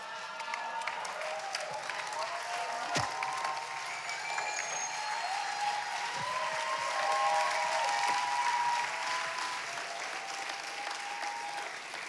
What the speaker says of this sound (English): Is that your best clap for the night?